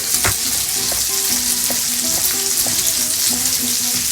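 Sliced peppers fry in a hot pan with a dense, steady sizzle close by, while a utensil clicks and stirs against the pan now and then.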